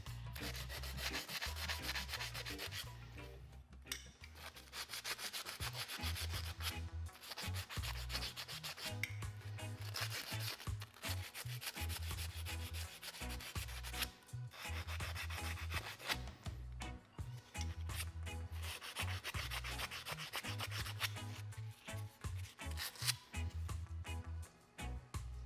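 A rag rubs briskly over metal parts for a Triumph hardtail bobber's battery box just before tack welding, with loud, close, repeated wiping strokes over a steady, pulsing low background.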